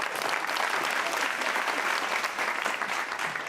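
Audience applause at a Hindi comedy poetry event, a steady dense clapping from a large crowd that holds at an even level throughout, with no voices over it.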